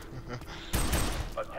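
Burst of gunfire in the shooter game FEAR 3, a dense broadband crackle of rapid shots lasting under a second, loud and close, with softer game sounds and a voice before and after.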